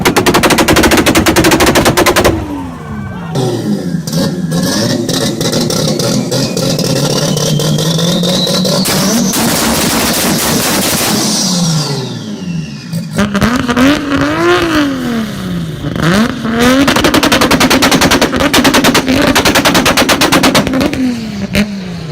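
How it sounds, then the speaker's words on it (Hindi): A Toyota Supra with a loud exhaust and anti-lag revs hard and fires rapid machine-gun-like backfire pops and crackles, the engine note rising and falling through long revving sweeps, very loud and close throughout. "loud exhaust and anti lag पटाखे"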